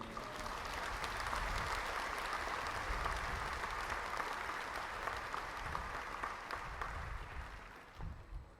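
Church congregation applauding during a service, sustained even clapping from many hands filling the room, tapering off near the end.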